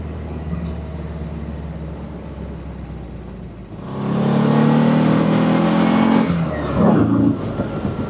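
A 1951 Porsche 356 Sauter Roadster, a small vintage sports car, runs on a test drive. A steady low engine hum gives way to a loud rev and acceleration about halfway through, then a second surge near the end.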